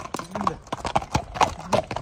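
A trained horse's hooves clip-clop in a quick, steady rhythm close by, a run of sharp hoof strikes with faint background voices.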